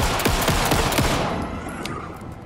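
Rapid bursts of gunfire from the video game Alan Wake 2, dense volleys in the first second and a half, then fading into a quieter, reverberant tail.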